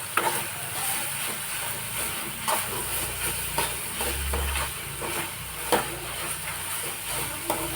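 Goan-style prawns sukha being stirred and mixed in a pan, with a steady frying hiss and sizzle and regular scraping spoon strokes, close and continuous.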